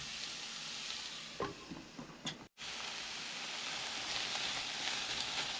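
Mushrooms and onions frying in a pan for Korean bibimbap: a soft, steady sizzle with a few brief stirring clatters and a short break partway through.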